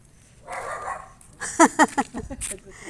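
A caged dog gives a few sharp barks and yips in quick succession, fairly close, after a brief murmur of a voice.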